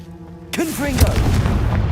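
A Confringo fire spell blasts in Hogwarts Legacy, landing as a loud, sharp boom with a rumbling tail right after a short cast, up close and dominating the moment.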